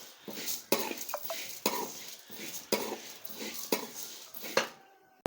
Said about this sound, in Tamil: இந்த துவரம்பருப்பு கூடயே ஒரு கைப்பிடி அளவுக்கு கருவேப்பிலை போட்டிருக்கேன் அதையும் போட்டு அதோட வறுத்துட்டோம்னா ஈஸியாக வறுபட்டுரும்